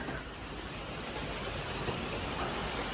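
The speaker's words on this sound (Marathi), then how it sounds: "पाऊस पाऊस अरे पाऊस पाऊस झालाय" Constant, even rain pours down, a dense hiss of drops on surfaces with no pauses.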